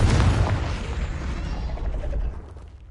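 A Confringo fire spell from Hogwarts Legacy bursts in a loud, full explosion that roars at once and then rumbles down over a few seconds, alone with no speech.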